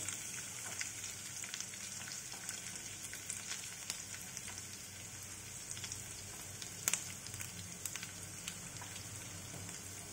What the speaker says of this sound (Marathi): आता यात मी जो बारीक चिरलेला आपला लसूण होता तो ॲड केलेला आहे।